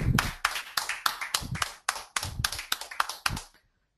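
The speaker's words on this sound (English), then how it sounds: "A big round of applause for him." Clapping follows an award announcement as about a dozen crisp, close claps sound in an uneven rhythm, then stop abruptly into silence.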